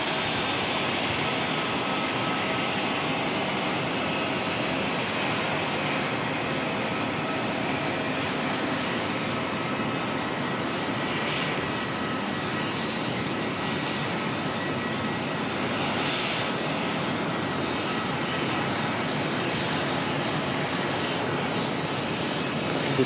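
Jetstar airliner engines drone steadily in the background at Auckland Airport, a broad, continuous roar that holds at an even level throughout with no talk.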